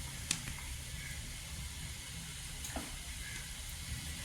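Pettu marunnu mixture being stirred in a cooking pan, a faint, steady sizzling hiss with a few light scrapes and taps from the spoon.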